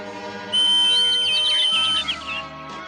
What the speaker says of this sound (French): Je n'ai peut-être pas sifflé assez longtemps.